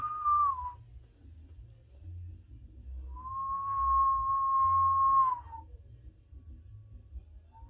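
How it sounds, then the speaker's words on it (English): A lone, eerie whistled tone from Puss in Boots: The Last Wish sounds briefly, then returns as a long sustained note that slides down at the end, over a low rumbling drone. "if I hear that whistle, I'm immediately gonna get scared"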